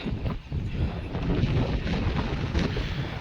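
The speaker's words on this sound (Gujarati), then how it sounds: "પવન બહુ છે ને" Strong wind buffets the microphone in a steady, loud roar with gusty swells and no pauses, at a dam.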